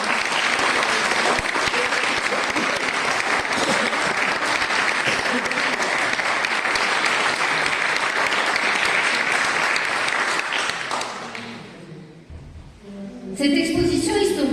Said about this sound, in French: Nous pouvons déjà l'applaudir et la remercier pour son travail documenté et